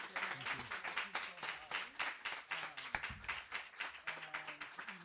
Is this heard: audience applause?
yes